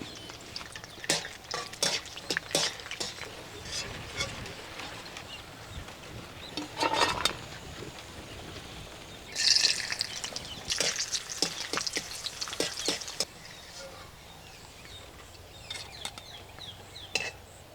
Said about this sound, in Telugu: ఇప్పుడు ఒక రెండు చెంచాలు నెయ్యిలో జీడిపప్పు బాదాము కిస్మిస్ మూడు వేయించుకుని పక్కకు తీసి పెట్టుకుందాం